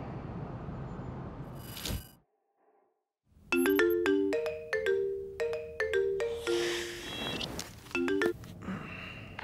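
A phone ringtone plays a bright, repeating melodic pattern of clear electronic tones, starting after a short silence and continuing steadily for several seconds at moderate loudness against faint background noise.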